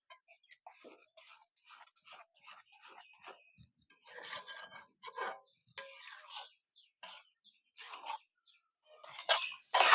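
A spoon scrapes and stirs through thick halwa in a pan as ghee is worked in, giving irregular short rasping strokes that grow busier and louder toward the end, with no voice over them.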